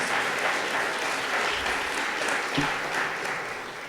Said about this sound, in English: In the city of Statesville, give them a round of applause.